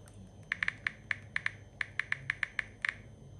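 Crisp taps on the on-screen keyboard of a Samsung Galaxy S9+ phone, about fifteen light clicks in an uneven typing rhythm, close and clear over a faint background hiss.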